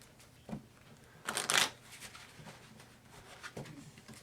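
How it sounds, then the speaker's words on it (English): Playing cards for the Sushi Draft card game are shuffled up close, with soft riffling and a louder flurry of snapping cards in the middle, then quieter handling afterward. "deal out 6 cards again. I've shuffled them up."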